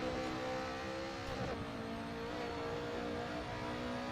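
BMW E30 M3 race car lapping Silverstone under heavy trail braking, its engine a steady loud mid-pitched drone with a slight dip in revs partway through, continuous with no talk.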